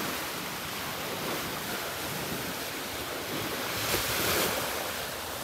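Ocean waves washing onto the shallow shore at Boracay beach on an overcast day, a continuous broad rushing surf with wind across the microphone, swelling slightly near the end.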